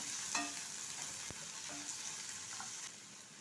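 Chopped onions softening in a pan for an onion tomato chutney, a steady close sizzle with a few light spoon scrapes and taps as they are stirred now and then, no voices.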